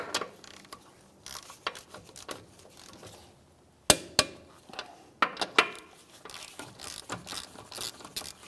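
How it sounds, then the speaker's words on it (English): A torque wrench ratchets and clicks while tightening lug nuts on a 2011-2016 Hyundai Elantra front wheel, giving sharp, close clicks in irregular bursts with quieter handling between. "Now we're going to torque our wheel down to 70 foot-pounds."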